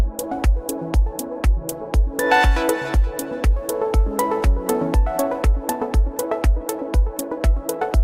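Bright plucked synth notes repeat in a quick, steady pattern over a punchy low beat, with the melody shifting as it cycles along.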